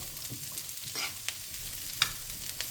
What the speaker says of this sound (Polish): Teraz na patelni podgrzewam troszeczkę masła i wrzucam tutaj paprykę razem z marchewką.